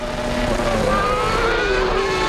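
A 1995 Williams Formula 1 car slides sideways under braking at the San Marino Grand Prix, its loud engine note falling steadily as tires squeal briefly under race commentary.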